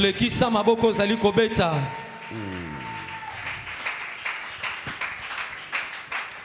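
A church congregation at a Sunday service breaks into applause and cheering, scattered claps rising into a sustained ovation as voices and a brief tonal sound fade underneath.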